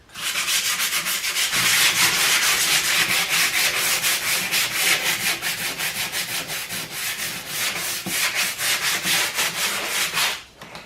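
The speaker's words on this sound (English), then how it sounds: "So what we'll do is just lightly scuff over this." Painted wood on an American flag craft piece is lightly scuffed with an abrasive, making a continuous run of rapid back-and-forth rubbing strokes, close and fairly loud, with a brief pause near the end.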